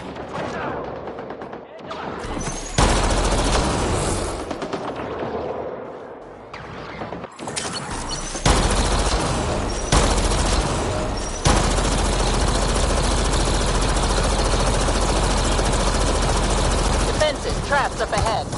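Enemy gunfire in a video game, heavy rolling bursts of shots that start and stop in blocks, loud and dense, with in-game voices now and then.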